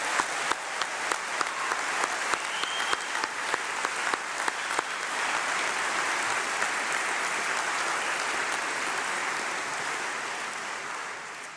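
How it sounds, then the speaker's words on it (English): At a graduation ceremony, the audience breaks into applause, starting with a few sharp claps and swelling into a full, steady wash of clapping from a large crowd before slowly tapering off. "Give yourselves another round of applause."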